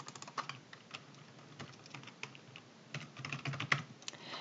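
Computer keyboard typed on while renaming spreadsheet sheets: a quiet, steady patter of close key clicks, with a few firmer taps near the end.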